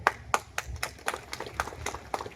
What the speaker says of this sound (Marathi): याच्यावर लोकांनी टाळ्या वाजवली